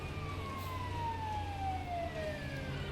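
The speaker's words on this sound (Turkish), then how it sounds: "Ambulans geçer kardeşim. O kadar siren çalıyoruz." An ambulance siren in the GTA 5 video game wails with a single tone that slowly glides downward, steady and moderately distant over a low vehicle rumble.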